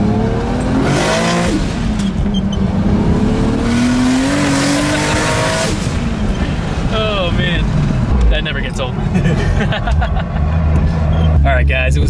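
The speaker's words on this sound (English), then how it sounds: "it was an absolute blast going for a ride in Andrew's 2JZ Lexus" A 2JZ-swapped Lexus SC430 running 40 psi of turbo boost on a stock engine, heard from inside as it pulls hard: the engine note climbs and drops through repeated loud sweeps, with excited voices talking over it.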